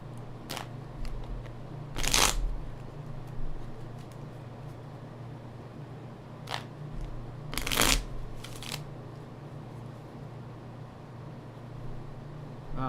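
Playing cards are shuffled twice against a steady low background hum, each shuffle a quick riffle burst with a few lighter card flicks around it and no talking.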